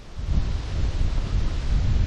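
Strong, blustery wind in pouring rain buffets the microphone of a cyclist riding in Belgium, a loud, continuous low roar that swells and rumbles with each gust.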